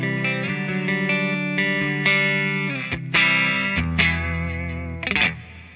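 Clean tone of a Bolivian-made Theron Strat-style electric guitar, a run of plucked single notes and chords ringing clearly with some reverb, played alone with no voices.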